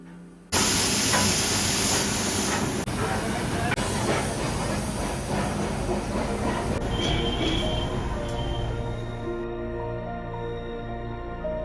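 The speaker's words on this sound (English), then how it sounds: "We saw the old steam locomotive, halting in one of the platform" A steam locomotive on the Ooty–Coonoor mountain railway rumbles steadily at a station platform with a hiss of steam and high squealing from the wheels, loud and continuous, easing slightly toward the end.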